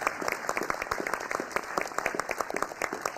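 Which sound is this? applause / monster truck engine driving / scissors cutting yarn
applause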